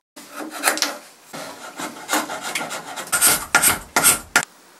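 Old chewing gum being scraped off a bentwood bench, a run of dry rasping, rubbing strokes that grow louder and choppier toward the end, close by with no voices.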